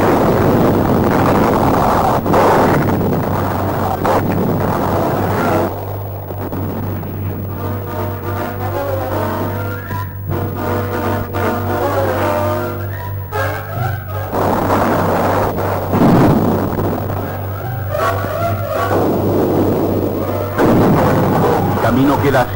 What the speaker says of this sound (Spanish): la artillería naval bate incesantemente al enemigo